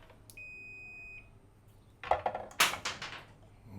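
A Greenlee 1550 clamp meter gives a short, steady high continuity beep near the start, followed by a few louder clicks and clattering handling noises as the probes are moved.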